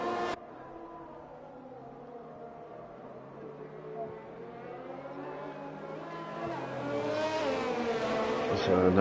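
GP2 race cars at Spa in a racing video game, engines droning steadily and growing louder toward the end, with a rising whine as the field builds speed behind the safety car.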